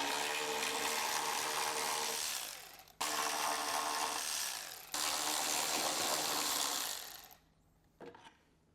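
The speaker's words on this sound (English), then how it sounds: "and then remove these three bolts as well." Bolts on a Harley-Davidson taillight being removed with a power tool: three loud, sustained bursts of buzzing, ratcheting mechanism noise separated by brief pauses, then near silence apart from a short faint clatter.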